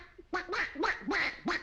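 A man imitates a duck with his voice, giving about five nasal quacks in a steady rhythm, close and clear with nothing else behind them.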